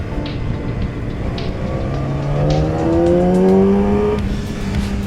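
A Yamaha R6 motorcycle on its stock exhaust revs up loud and close, the engine note climbing smoothly to a sustained high pitch before easing back down, with no talking.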